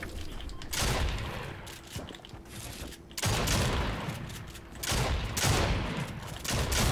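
Gunshots in the Fortnite video game, loud bursts of rapid fire in three bouts separated by short quieter gaps, close and dominating with no talk.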